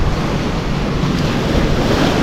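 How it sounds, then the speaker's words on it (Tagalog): Strong ocean surf pounding a rocky shore during the northeast monsoon, a loud, continuous roar of crashing waves mixed with gusty wind buffeting the microphone, with no voices. "Grabe yung alon, no?"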